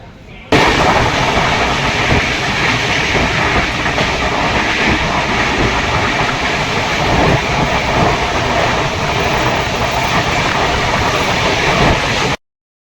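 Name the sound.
Mumbai–Jasidih express train running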